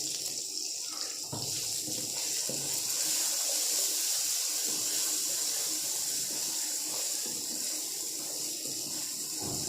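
Water pours steadily into a pan of potato and pea curry seasoned with turmeric, chili and salt, a continuous close splashing hiss with no talk.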